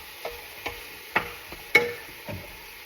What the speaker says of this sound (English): Get you a good old wooden spoon, or you don't. It's up to you. And you're going to mush that ground beef all up. And you give it a good old stir.